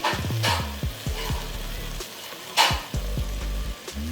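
Coriander, cumin, turmeric and salt roasting in a pan for mutton paye, a steady close sizzle and fry broken by a few sharp scraping stirs, with no voices.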